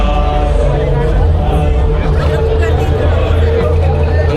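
A festival crowd fills Godaghat in Nashik during Mahashivratri, a steady babble of many voices close around, with a nearby person talking over it.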